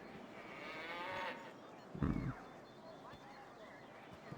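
A cow in the video game Baldur's Gate gives a loud, low moo mid-clip, preceded by a softer lowing sound over a steady ambient backdrop.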